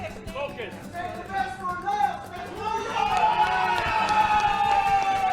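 A lively crowd cheers and chatters at a military cooking competition, a steady roar of voices that builds and holds, with shouts and a commentator talking over it.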